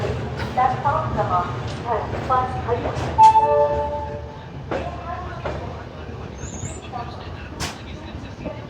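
Konark Express pulling out of Visakhapatnam, heard from inside a sleeper coach: steady rumble of wheels on rails, with a few horn-like tonal blasts and clanks, and people talking nearby.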